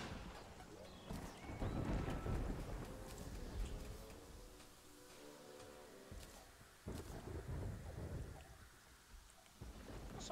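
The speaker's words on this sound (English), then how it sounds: "I hate the rain." Rain falls steadily in the video game Terraria while thunder rolls in the distance. The storm runs quietly throughout the clip, with a few louder rumbles, and no one talks.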